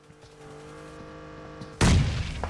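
A grenade detonates in PUBG Mobile during a competitive squad match, a sudden loud blast cutting in after a quieter stretch of low humming game sound, then a rumbling tail.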